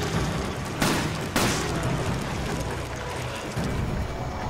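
Gunfire in the Resident Evil 5 video game, two sharp loud blasts close together early on over a dense, noisy game soundscape.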